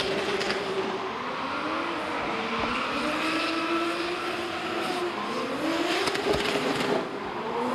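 Mustang drift car powering out of the final section at Baypark Stadium during D1NZ drift qualifying, a loud sustained engine roar with rising and falling revs and tyre squeal, heard from a distance over steady crowd and track noise.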